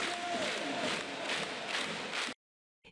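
A loud, sustained roar of a cheering crowd in a sports hall at a handball match, dense and continuous before cutting off abruptly into silence.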